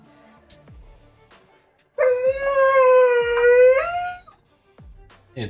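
A pet puppy named Nezuko lets out one sustained, tonal howl lasting about two seconds, close and loud, with short quieter whimpers and room sounds before and after.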